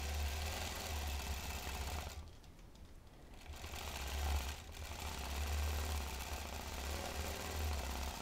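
A quilting machine stitches crosshatch lines along a ruler, giving a steady mechanical hum with a softer pause in the middle before the stitching resumes, close and continuous with no talk.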